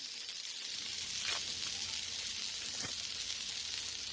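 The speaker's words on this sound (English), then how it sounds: "You see that sizzle coming out from underneath here." Loud, steady sizzling from smash burgers frying on a hot griddle, a constant crackling hiss with a couple of brief scraping sounds.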